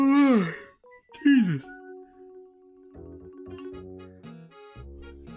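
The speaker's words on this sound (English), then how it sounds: "gonna yawn my head off." A person lets out two long yawns with falling pitch, the second after a short gap, followed by quiet sustained electronic tones.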